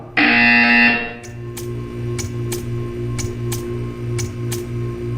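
A loud electronic buzzer in the video game Portal 2 blares for about a second, then gives way to a low hum and regular ticking pulses.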